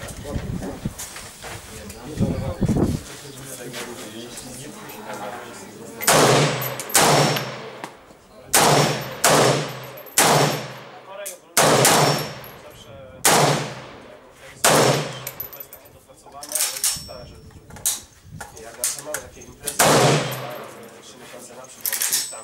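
A series of loud gunshots crack out at a shooting range, mostly single shots with short bursts, echoing over a quieter stretch with some distant voices at the start.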